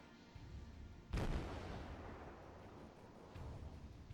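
Enemy naval guns fire in World of Warships: one heavy, booming blast lands abruptly, then a long rumbling roar slowly fades, with a fainter second rumble near the end.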